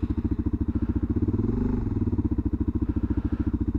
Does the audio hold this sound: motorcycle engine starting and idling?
yes